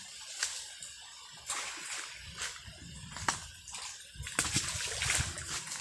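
Several pomelo fruits splash and plop into water, with sloshing and trickling between them, fairly close and irregular.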